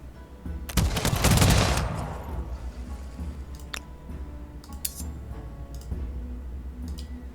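A volley of musket gunfire in the Humankind strategy game, one loud crackling burst of many shots at once that fades away, followed by quieter scattered battle clatter and ticks.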